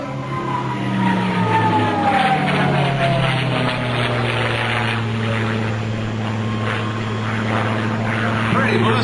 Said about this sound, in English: Blue skies and white clouds over Millville Airport and a P-51 Mustang.